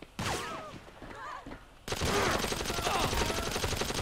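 Gunfire in GTA 5 with the LSPDFR police mod, a dense rapid fusillade of game shots that swells into continuous automatic fire over layered game sound effects.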